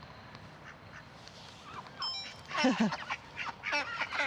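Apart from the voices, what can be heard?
ducks quacking at port in Le Havre, France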